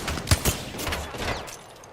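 Bursts of video game gunfire, a few sharp close shots near the start followed by a rattling, busy stretch of in-game combat noise.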